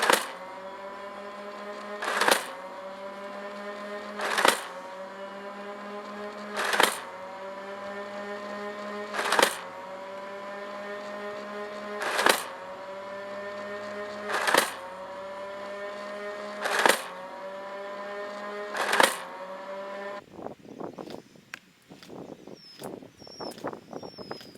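Nerf Mega Mastodon motorized blaster firing mega darts: a steady flywheel whine broken by about eight evenly spaced sharp shots, each followed by a falling motor tone, then scattered clattering at the end.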